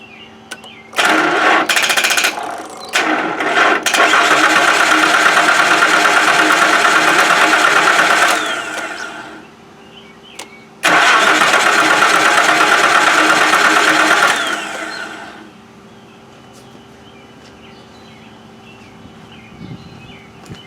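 A 1995 Nissan engine cranks loudly in two long bursts of about six and four seconds, each starting after short stuttering attempts, with a steady rhythmic churn that never catches, then quiet between and after.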